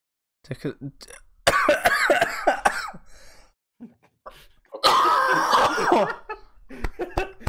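Coughs burst out among people talking and laughing, with loud harsh clusters in the middle and near the end.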